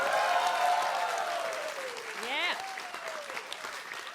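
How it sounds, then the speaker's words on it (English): An audience at a live comedy talk show in Edinburgh claps steadily on cue, a broad wash of applause that stays fairly loud throughout while a voice calls out over it. "Now everyone clap."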